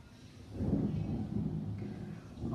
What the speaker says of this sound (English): I hope you guys heard the thunder a lot.